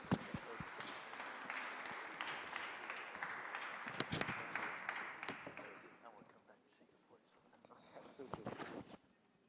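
Audience applause for an executive director at a conference on the European Union and African Union partnership: a sustained round of clapping for about six seconds that fades out, with a voice speaking underneath.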